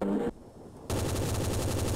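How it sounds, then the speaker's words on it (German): Rapid gunfire in a Garry's Mod TTT match: a short burst, a brief lull, then a sustained stream of evenly spaced shots rattling loudly and continuously to the end. "Ich hab nämlich Schüsse gehört."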